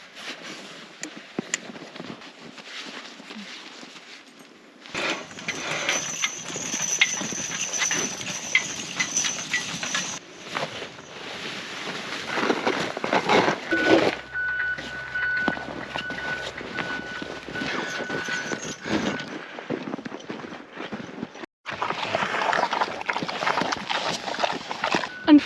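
Draft horses walk steadily on a snowy farm while clearing snow and feeding pigs, hooves clip-clopping in a loose ongoing rhythm at moderate distance, mixed with outdoor wind and handling noise for about half a minute.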